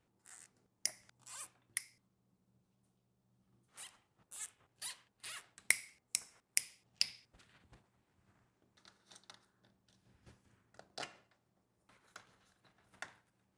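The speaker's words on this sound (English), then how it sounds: "So I'm just gonna zip tie this up and put it into the neck of the bike." Zip tie ratcheted tight around e-bike battery cables for a Chi Titan 72V Eride Pro SS battery install, heard as a series of sharp, close zipping bursts in quick clusters, then softer scattered clicks and rustles.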